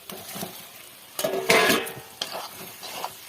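Boiled eggs added to a frying spice paste in a pan for egg curry, with sizzling and scraping stirring sounds, soft clatter and a couple of louder bursts, no talk.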